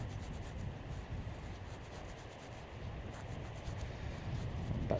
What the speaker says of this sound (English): Get sand on that, get that red off.